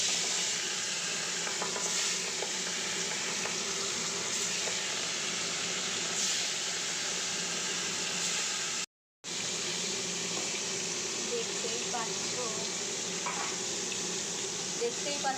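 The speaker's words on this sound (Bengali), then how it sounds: "তেলটা আমার গরম হয়ে গেছে, আমি এই যে মাখা মাছগুলো আমি দিয়ে দেবো।" Marinated fish frying in hot oil, a steady close sizzle and hiss that runs unbroken, with a brief cut partway through and occasional stirring sounds.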